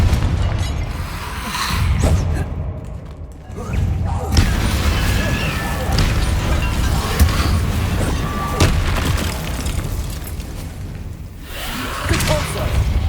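A Confringo blast spell bursts in a Harry Potter video game, booming explosions and whooshing impacts layered with a loud, busy soundtrack and shouted spell names.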